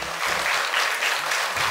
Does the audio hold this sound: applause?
yes